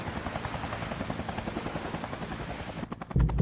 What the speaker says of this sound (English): I had to go and had to wait for a second helicopter.